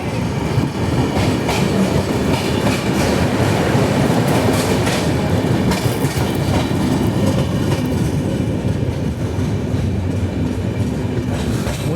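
The Ajanta Express passenger train rolls along the rails in India, a loud steady rumble with rhythmic clickety-clack from the wheels, heard from inside the carriage.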